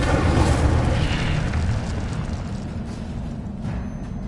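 A fire spell cast in Hogwarts Legacy: a loud, sustained roaring burst of flame that hits hard at the start and then fades slowly across several seconds, with no voices.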